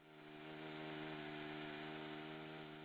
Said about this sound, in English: This is an extremely unique design with a handheld chainsaw used as a saw blade.